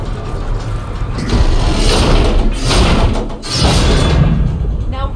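A heavy axle mechanism is shoved back into place in God of War, a loud grinding, scraping mechanical rumble with a few thuds, sustained over several seconds.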